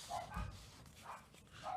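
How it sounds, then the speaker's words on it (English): Dogs bark indoors a few rooms away, three faint, muffled barks spaced about half a second apart under quiet room noise. "Sorry about the dogs barking."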